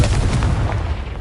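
A Confringo spell blast from the Hogwarts Legacy video game, heard as a loud, sustained booming burst with rumbling low end that fills the short moment without any talk over it.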